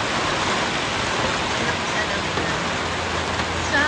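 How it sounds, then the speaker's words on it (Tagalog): Steady, dense hiss of heavy rain pouring continuously on a greenhouse, loud and close, with no breaks and a faint low rumble underneath. "Natutuwa naman ako dahil lumakas yung ulan."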